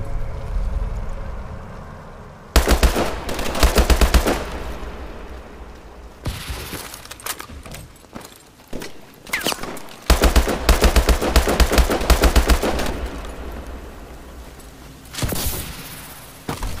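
Rapid gunfire from a squad-based shooting video game, with loud bursts of automatic fire in several clusters separated by quieter stretches of ambient game sound.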